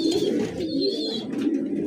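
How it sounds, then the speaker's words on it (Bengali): A blue checker Lahore pigeon coos close by, a low throaty rolling call repeated in two or three phrases, loud and clear with no talking. "ব্লু চেকার লাহোর বর্তমানে খুব রেয়ার কবুতর"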